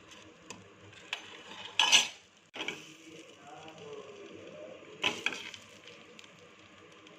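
Eggs dropped into spiced masala oil in a pan for egg biryani, a soft steady sizzle with a couple of sharper splashing bursts and a faint utensil clink, fairly close and with no talk over it.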